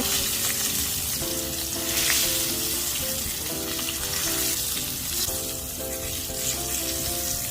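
Egg-battered eggplant and vegetables deep frying in a pan of hot oil, a loud, dense, continuous sizzle and crackle that holds steady throughout with no talk.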